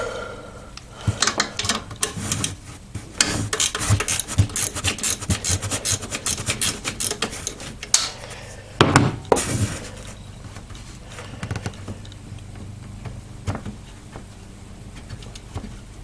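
A 10mm wrench works a bolt on a Jeep Wrangler transmission line jumper in a cramped spot, giving close irregular metallic scraping, ratcheting and clinks that grow sparse toward the end.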